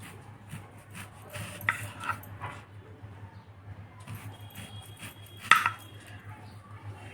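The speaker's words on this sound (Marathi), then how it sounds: "मी सुरीन कापतो" A knife cuts through elephant foot yam (suran) in a home kitchen, giving faint, sparse taps and clicks of the blade against the board, with one sharper knock near the end and a low hum behind.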